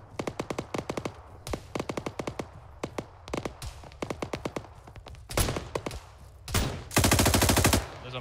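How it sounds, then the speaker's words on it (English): Marksman and automatic gunfire in the video game Arma 3 during a combined-arms joint operation, rapid bursts of sharp shots in quick rhythmic volleys with heavier louder blasts near the end, no talk. "Marksman shooting at us"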